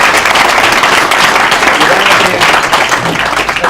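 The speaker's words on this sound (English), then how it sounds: "That's okay, you can stop clapping" Loud, sustained applause from an audience at an evening expert talk event, dense clapping filling the room without letting up.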